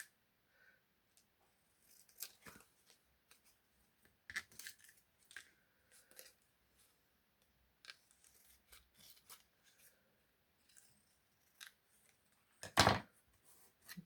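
Scissors snip and trim coffee-dyed paper for a junk journal background, a scattering of quiet, close cuts with soft paper rustles between them and one louder crisp snip near the end.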